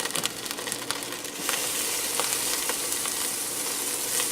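Margarine melts and sizzles in a Ninja 3-in-1 pot, a soft, steady frying hiss with a few scattered crackles and pops early on.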